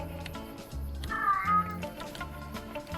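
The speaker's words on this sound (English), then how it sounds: "That's our foster cat in the other room." Elderly cat meowing from another room, a muffled, distant cry over game music and background sound.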